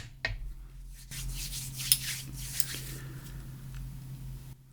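A card is pressed and rubbed into an embossing ink pad, giving soft close scuffing and rubbing noises over a low background hum.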